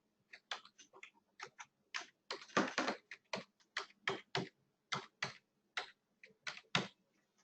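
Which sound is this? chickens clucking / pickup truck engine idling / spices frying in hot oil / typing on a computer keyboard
typing on a computer keyboard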